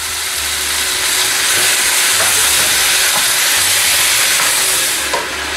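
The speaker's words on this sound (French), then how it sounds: "Allez, on va bien mélanger l'ail." Grated garlic being stirred in a hot pan, a loud, dense hiss of frying that runs steadily throughout with no talk.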